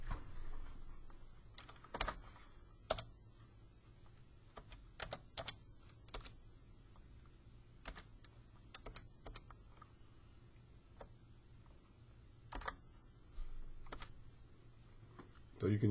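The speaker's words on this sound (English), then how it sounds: "I like to use the keyboard. So I just do Shift 6 to do the power, and then I type that in." Typing on a computer keyboard while entering a math expression, with irregular taps and clicks of keys and a few louder, sharper strikes. The sound is close and fairly quiet over a low steady hum, and someone talks briefly at the end.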